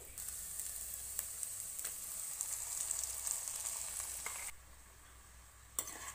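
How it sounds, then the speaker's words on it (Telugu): Ground masala paste frying in a pan for paneer butter chole masala: a close, steady sizzle with a few stirring scrapes, quieting partway through before a final sharp scrape, and no one speaking. "ఇలా మొత్తం మనం వేసుకున్న తర్వాత కొంచెంసేపు వేగనిద్దాం."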